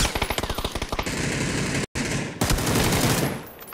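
Assault rifle fire in a video game, with rapid automatic bursts cracking loudly at close range, a brief silent gap, then more sustained firing fading out.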